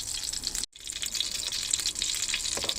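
Potato galette frying in butter in a pan over high heat in a camper van, a bright continuous sizzle with one brief drop-out, close and steady, no voices.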